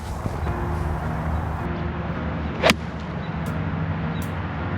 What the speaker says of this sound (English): Now I'm gonna do a couple full swings, again, just focusing on that explosion.